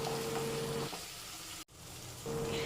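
Okra curry with tomato sizzling in a pan as it is stirred, a steady close frying hiss over a faint hum, broken by a brief drop in the middle.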